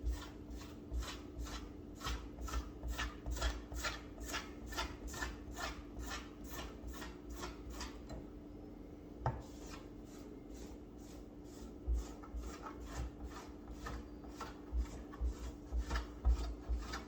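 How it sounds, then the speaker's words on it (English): A table saw top gets scrubbed clean by hand, with rapid rhythmic back-and-forth scraping strokes close up, a brief pause midway, then steady scrubbing resumes. "So might have to scrub a little bit instead of just wiping dry."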